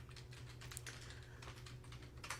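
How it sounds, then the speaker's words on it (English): Fast typing on a computer keyboard in a studio, a rapid steady patter of quiet key clicks running throughout, with a low hum underneath. "Carleen Wells are typing that fast, boy."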